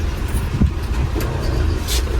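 Inside a moving dolmuş minibus, a constant engine and road rumble fills the cabin, with a few faint rattles and a brief hiss near the end.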